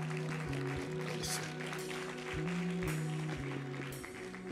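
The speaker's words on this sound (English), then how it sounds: "Clap your hands." A church congregation claps along during a prophetic worship service, the steady clatter of hands blending with sustained keyboard chords for several seconds.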